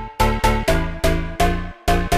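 A future house lead melody built in FL Studio plays as punchy, bright, plucky synth chords in a bouncy syncopated rhythm, seven or so short stabs looping loud and clear with no voice.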